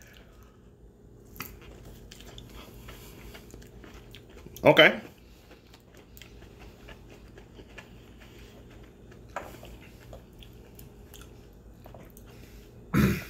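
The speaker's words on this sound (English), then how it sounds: "You got to chew it up and swallow it" Someone bites and chews a hot pepper close up, with a few distinct crunchy bursts at spaced intervals over a quiet background. A brief spoken word is heard.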